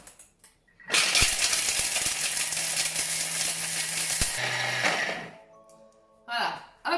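Food processor grinding dark chocolate into powder at speed 10, a loud steady whirring roar for several seconds that then stops abruptly, followed by clattering and a voice.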